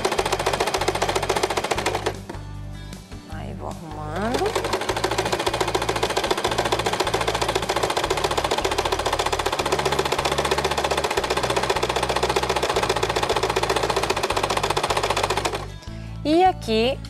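A domestic sewing machine stitches along the side of a fabric placemat in quick, even mechanical bursts, close and steady for most of the stretch with brief pauses, while someone talks intermittently over it.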